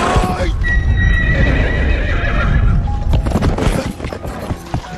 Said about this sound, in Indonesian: dia dengan senang hati menunggangi kuda ayahnya di padang